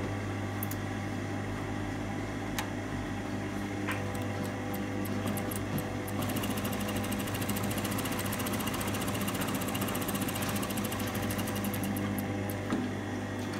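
Sewing machine running a long gathering stitch on a tunic back body, a continuous close mechanical whirr with a steady rapid rhythm and no talking.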